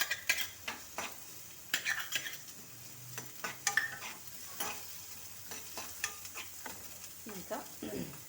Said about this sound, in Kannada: ಈಗ ಇದು ಫ್ರೈ ಆಗ್ತಾ ಇದೆಯಲ್ಲ